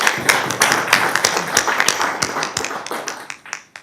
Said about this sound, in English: that is a deserved applause